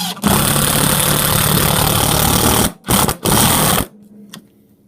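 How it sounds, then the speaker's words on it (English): Makita impact driver sinking screws into pine with various bits, a loud continuous rapid hammering buzz for almost three seconds, then two short bursts and a trailing faint hum. "Using a Makita impact driver with various screw types, I tested the bits through a couple pieces of pine wood."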